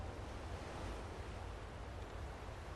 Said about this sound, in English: Mysterious waves.